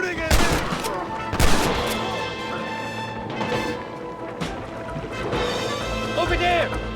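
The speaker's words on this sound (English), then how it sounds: "Stop shooting at me!" Gunfire rings out in the Red Dead Redemption video game during the assault on Fort Mercer, several sharp shots and bursts scattered over the scene, mixed with game music and ambience.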